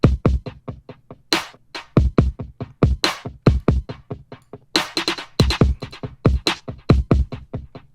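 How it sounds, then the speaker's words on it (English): A processed Apple drum loop with added effects plays on its own, tight kicks and snappy snares in a repeating pattern with bright, effected hits. "The drum beat is just an Apple loop with some extra effects on it."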